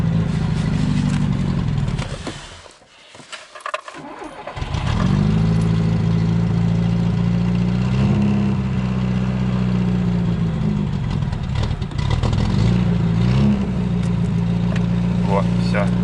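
A VAZ 2107 car engine idles just after starting, a steady low rumble that dips briefly then settles into an even running hum, with someone talking over it.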